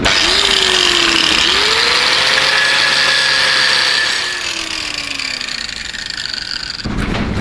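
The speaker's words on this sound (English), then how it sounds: "I've just got to grind a couple of rust spots on the keel." An angle grinder works rust spots off a boat's steel keel, a loud continuous abrasive whine and hiss with the motor pitch rising and sagging under load, close up, before it winds down near the end.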